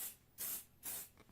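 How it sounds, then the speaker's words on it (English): Grippy spray hisses from a can onto a quilting ruler in three short, close bursts spaced evenly apart. "or you can get grippy spray"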